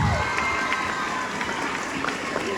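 Children in a religious lesson clap and cheer together, a continuous, fairly loud wash of hand claps and excited young voices filling the room without pause.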